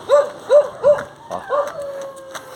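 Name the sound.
dog approaching on the road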